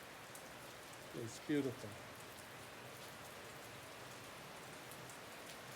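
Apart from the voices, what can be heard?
steady rain falling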